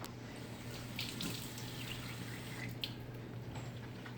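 Water runs softly from a tap into a pan of hot banana peppers stuffed with Italian sausage, a faint steady trickle with a few small clinks, no voices.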